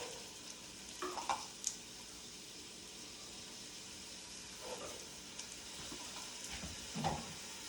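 Onions sweating slowly in canola oil in a pan, giving a steady low sizzle with a few soft stirring knocks and clatters, no voices.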